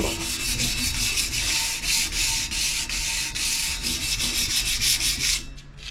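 Steady hand sanding with a sanding block during paint preparation on a motorcycle lift table, a continuous close rasping rub in even back-and-forth strokes that stops near the end.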